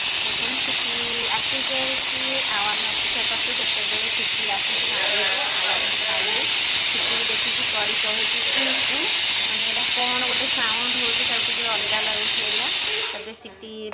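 A pressure cooker cooking mutton with potatoes and garlic gives a steady, loud hiss of escaping steam that runs for about thirteen seconds under a voice, then stops abruptly.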